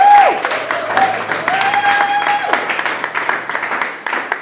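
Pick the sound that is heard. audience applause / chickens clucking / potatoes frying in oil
audience applause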